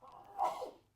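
A single sneeze from someone in the audience at an electric vehicle association meeting, a brief burst rising to a peak and fading within about a second, moderately near and alone without talk.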